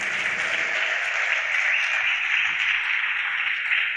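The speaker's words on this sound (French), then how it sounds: "Et je vous demande de l'applaudir, je crois qu'elle est là." Audience applause for a man's wife at an evening event in Tangier, steady dense clapping from a crowd throughout, even and sustained with no voices over it.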